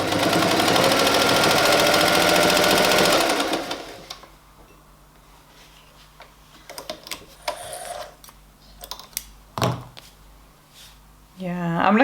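A new sewing machine runs at a steady, loud, purring whir for a few seconds, then stops, leaving faint clicks and handling noises from the machine in a quiet room.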